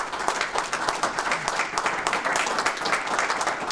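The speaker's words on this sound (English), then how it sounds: "So let's give them a round of applause." Brisk, dense applause from a forum audience honoring a congressman, continuous and fairly close, with no talk over it.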